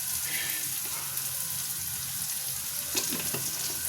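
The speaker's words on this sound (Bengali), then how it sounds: "তেলটা একটু গরম হতে থাক" Oil heats in a clean wok over a gas flame before eggs are fried, making a continuous steady hiss and sizzle, with a couple of faint clinks near the end.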